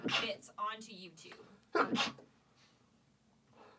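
During a podcast conversation, one sharp sneeze bursts out close to the microphone right after someone speaks briefly, followed by quiet.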